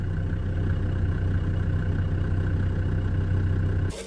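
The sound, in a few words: tractor with plough running in background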